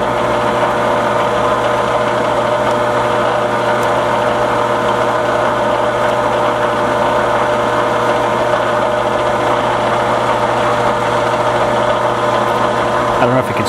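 A Grizzly MT5-5C collet adaptor spins in a machine with the grinder pulled back, giving a steady, continuous motor hum and drone with a constant low tone, close and unchanging throughout.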